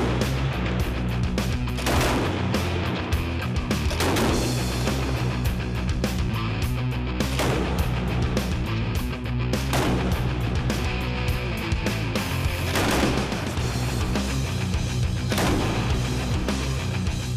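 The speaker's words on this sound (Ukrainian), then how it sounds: "Навіть невеликий темп стрільби у 450 пострілів на хвилину спустошує магазин за лічені секунди." Browning Automatic Rifle firing in rapid bursts, loud sharp automatic reports repeating continuously with periodic heavier blasts throughout, no voices.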